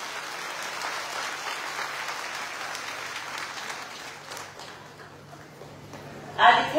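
A large crowd, mostly women, applauds at a Maharashtra Navnirman Sena political rally, with sustained clapping that slowly thins and fades before a sharp burst of noise at the end.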